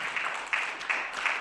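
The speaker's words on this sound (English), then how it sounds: "Let's have a round of applause for our panelists." An audience applauds the panelists at a University of Utah event on the American economy, giving a short, steady round of clapping with a few sharper peaks.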